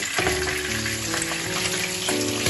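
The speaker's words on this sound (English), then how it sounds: "So there is enough of space in the frying pan for the chamna to fry." Stuffed pomfret (chamna) with green masala, Koli style, frying in oil in a covered pan, a steady close sizzle and crackle throughout with no talking.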